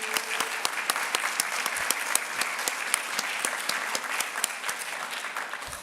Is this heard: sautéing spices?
no